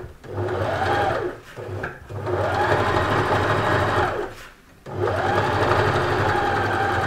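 Sewing machine stitching lace onto a knit sweater, running in three long close steady bursts with brief pauses between, a fast even mechanical whir throughout.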